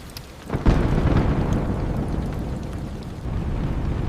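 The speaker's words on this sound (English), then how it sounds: "The storm is very strong tonight." A strong night thunderstorm: a deep thunderclap bursts in and rumbles on over a steady wash of heavy rain, loud and close, with no one speaking.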